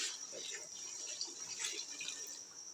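Water pours steadily into a cooking pot for Shami kabab, a continuous close splashing stream with a faint trickle throughout.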